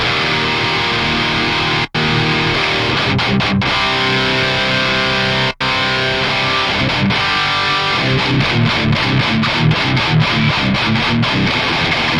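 High-gain electric guitar tone through a Fractal Audio Axe FX III preset, loud and distorted with chugging palm-muted riffs and sustained chords, two abrupt dropouts near the start, then faster rhythmic chugs toward the end.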